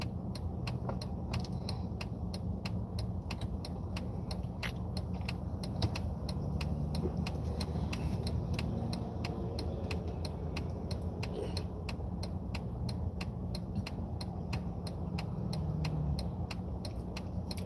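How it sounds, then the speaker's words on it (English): Morning road traffic passing by, a continuous low rumble of vehicles at a moderate distance with faint ticking clicks throughout and no voices. "starting to see the traffic come out"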